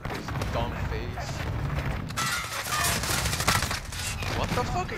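Gunfire in a Modern Warfare hardpoint match, dense rapid bursts and thuds from several weapons layered together, loud and chaotic, with players talking over it.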